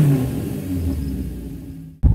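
Honda CB750 K0 motorcycle exhaust, a 4-into-1 or 4-into-2 setup, rumbling steadily and close for about two seconds, then cutting out briefly before a sharp, louder burst of revving.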